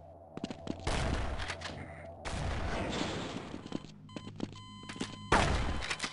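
Nail gun firing in a video game, repeated sharp mechanical bursts and thunks layered over game ambience, with bright high-pitched beeping tones between the louder clusters of shots.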